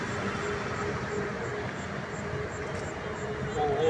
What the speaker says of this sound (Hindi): तो जाने वाली ट्रेन प्लेटफॉर्म नंबर तीन पर आ रही